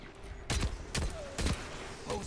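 Gunfire in a Destiny 2 Gambit match, four loud evenly spaced shots from a heavy weapon ringing out over busy game ambience.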